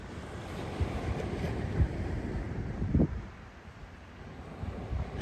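Steady wind on a Mediterranean beach at Vias, France, in February, buffeting with broadband rumble and gusty swells, a few sharper bursts, ocean surf-like wash underneath; no voices.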